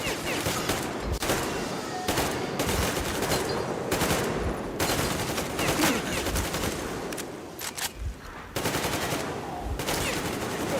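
Rapid automatic gunfire and scattered shots from the video game Metro Exodus, loud and near, bursting in dense runs with brief gaps over a constant roar of battle, with shouting voices faintly mixed in.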